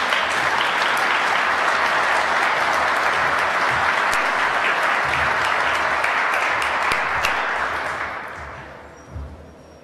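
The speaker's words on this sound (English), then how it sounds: "Let's give Father Tuhawk a round of applause." A crowd at the South Dakota State Capitol on Tribal Relations Day gives Father Tuhawk a round of applause: loud, sustained clapping from many people, steady for about eight seconds before tapering off to quiet.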